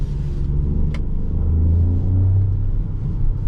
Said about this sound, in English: the car starts to sound louder. That's because of the speakers. So basically car is projecting the sound.